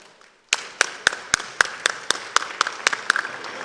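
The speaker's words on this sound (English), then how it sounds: "Let's give them a round of applause." Awards-ceremony audience clapping in a steady, evenly spaced rhythm, sharp claps about four per second starting abruptly and continuing fairly loud and close.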